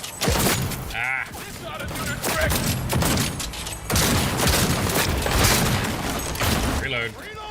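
Gunfire from a heavy-hitting gun in Cyberpunk 2077 plays as a dense run of loud, near shots and thumping impacts filling the whole stretch, with a brief lull partway through.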